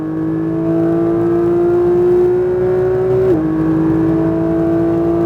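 A Porsche 992 911 GT3 accelerates on a race track, its engine note climbing in a steady, loud whine from inside the car, then dropping briefly at an upshift before rising again.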